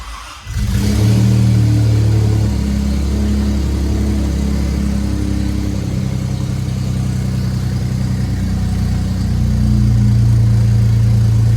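A rebuilt Isuzu Rodeo engine cranks and fires up, then runs loud and close with a steady rumble and rises in revs near the end.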